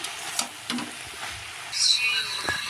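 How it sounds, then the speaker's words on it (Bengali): Vegetables frying in oil in a pan for a Bengali vegetable dish while being stirred, with a quiet sizzle under scraping spoon strokes and a brighter hiss near the end. "এটাকে ভালো করে নাড়তে হবে, নেড়ে চেড়ে তবে।"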